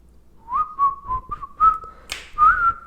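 Person whistling by breathing in, a string of clear, short tonal notes in a wavering melody, close and fairly loud, with a brief breathy hiss between notes.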